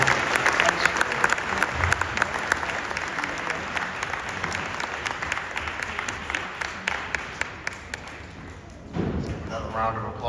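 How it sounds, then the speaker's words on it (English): Sustained audience applause at a university junior white coat graduation ceremony for a kids science academy, dense clapping for about nine seconds with scattered louder claps, then fading as a voice begins to speak. "Another round of applause for Dr."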